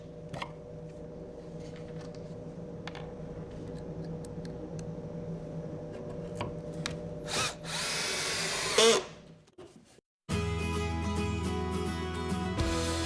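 A power drill drives pocket hole screws through wooden table aprons into a tabletop, with repeated whirring bursts in close, loud spurts and brief pauses between runs.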